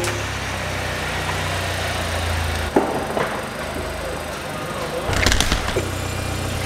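A Skoda Karoq engine runs at a low, steady idle, with a sharp click midway and a louder rumbling surge near the end before it settles back to idle.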